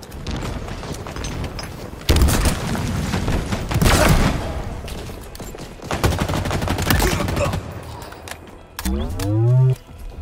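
Explosions and heavy gunfire from a Halo Infinite multiplayer match: several loud broadband booms near 2, 4 and 6 seconds over steady combat noise, closing with a whooshing tonal sweep, as game voice lines run beneath.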